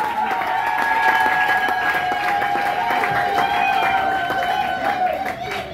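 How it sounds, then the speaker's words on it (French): A church audience claps steadily for a general at a pastor's book launch, a dense continuous applause with a sustained tone ringing underneath. "On applaudit très fort pour le général."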